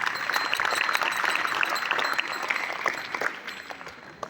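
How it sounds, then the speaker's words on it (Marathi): Outdoor audience at a school gathering gives a round of hand-clapping, dense and lively at first, then thinning and fading toward the end. "एकदा कर्मवीर मामासाहेबांच्या कृतज्ञतेसाठी टाळ्या वाजवा सगळ्यांनी"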